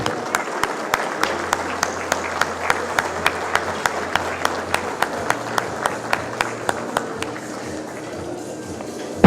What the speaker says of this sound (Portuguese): Uma salva de palmas à senhora Iveli Lacerda Meirelles